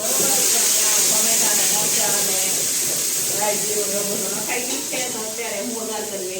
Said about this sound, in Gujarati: અત્યારે હવે આપણે દાળનો વઘાર કરી રહ્યા છીએ